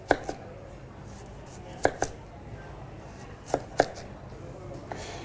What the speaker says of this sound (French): Maintenant, on va procéder au taillage des courgettes.